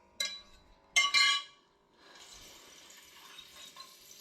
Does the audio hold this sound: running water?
yes